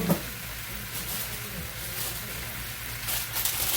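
Sausage, Brussels sprouts and mixed vegetables cooking together in a skillet give a soft, steady sizzle with faint stirring, continuous and close at moderate volume.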